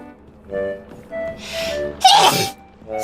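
A single loud sneeze from a man bursts out near the mic after a short inhale, standing alone over faint background tones.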